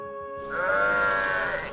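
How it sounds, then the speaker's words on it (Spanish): A sheep wearing a neck bell, at a nearly empty campsite in Norway, lets out one sustained, nasal bleat close by. It swells in after a short pause and carries for over a second before fading. "Las ovejas tenían campanas en el cuello que se podían escuchar a cientos de metros de distancia"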